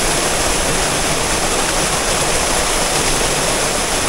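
Kakawayan Falls in Infanta, Quezon pours in a loud, steady, unbroken roar of falling water, close and constant with no pauses or voices.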